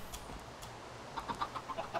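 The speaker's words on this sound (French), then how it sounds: "Est-ce que je tue les poulets?" Chickens in the video game Minecraft give a quick run of short, clipped clucks in the second half, clear and moderately loud over a low, steady background hum. Nobody speaks.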